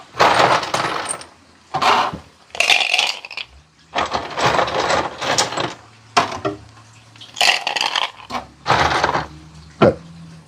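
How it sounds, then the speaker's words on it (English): Ice cubes tossed by hand into a kitchen container while preparing an Irish meal, giving about nine loud, close, clattering bursts spaced irregularly with short pauses between. "I'm going to take a few cubes and throw them in here."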